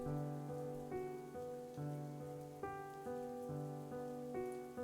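Steady rain falls in a video game rain scene, a soft wash of drops running throughout beneath sustained melodic game music that changes notes every second or so.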